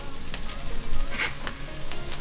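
Taro cake filling of scallions, dried scallops and shiitake mushrooms fries in a pan, giving close, crackly sizzling with a few sharp pops and stirring, with no voices.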